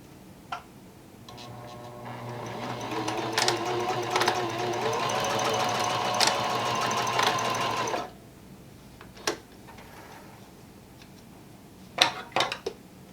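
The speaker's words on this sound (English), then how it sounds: "Now go ahead and sew those pieces of elastic together." A sewing machine runs for about six seconds, stitching two pieces of elastic together with a steady mechanical whir, then stops, leaving a few sharp clicks and taps.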